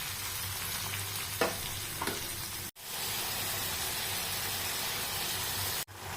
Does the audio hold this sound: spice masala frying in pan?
yes